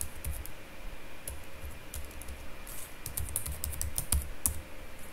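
Keys clatter on a computer keyboard as an email address is entered into a web form, a steady run of light clicks with a couple of brief pauses, close and fairly quiet.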